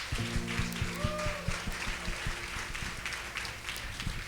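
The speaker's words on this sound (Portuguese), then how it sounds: "eu peço a ajuda de vocês agora para a gente receber com uma grande salva de palmas" Applause from an audience at a church gathering welcoming a woman to the stage, steady crowd clapping mixed with a low musical drone and sustained tones underneath.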